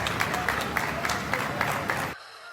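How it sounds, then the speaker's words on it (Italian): Shopkeepers in a street in central Naples applauding as shops reopen after lockdown, a lively outdoor patter of many hands clapping that cuts off abruptly near the end. "poi l'applauso"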